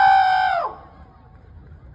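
A rooster crows once, loud and close: a held, bright call that drops off sharply at the end and gives way to quiet background.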